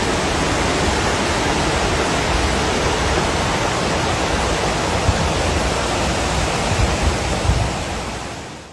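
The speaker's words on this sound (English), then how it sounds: "The mud and rocks didn't just slide, they accelerated down the slopes, funneled by the Gerkhozhan-Su River valley." A mudflow of mud and rocks rushing down the Gerkhozhan-Su River valley near Tyrnyauz, Russia, heard as a loud, steady, broadband roar like churning water that continues unbroken before easing off at the very end.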